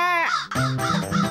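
Crows caw twice in quick succession, loud and close, harsh nasal calls standing alone with no talk.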